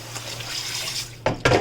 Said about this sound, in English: I use the warm water to wash this off because there was butter in it